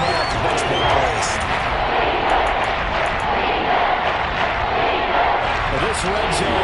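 A Seahawks home crowd roars at a football game against the Ravens, a dense, loud and unbroken wall of noise from a packed stadium with faint higher whistles and shouts on top.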